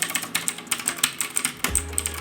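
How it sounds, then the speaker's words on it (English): Rapid clicky keystrokes on a Redragon K552 mechanical keyboard with Outemu Blue switches, loud and close, tapping out a steady uneven rhythm with a brief thump near the end. "This keyboard is very loud and clicky."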